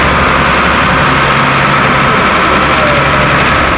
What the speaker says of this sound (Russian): Перед камерой продефилировал лишь мало относящийся к зимней уборке трактор.